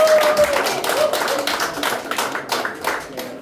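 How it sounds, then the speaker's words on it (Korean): An audience at a Korean political gathering claps for a lawmaker, a loose burst of many hands that pulses unevenly and tapers off over a few seconds. "큰 박수 한번 부탁드리겠습니다"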